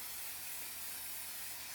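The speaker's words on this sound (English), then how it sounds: "Let's just spray our pan right over here." Cooking spray hisses onto a pan for a short, steady, continuous burst, close and quiet, with no talking.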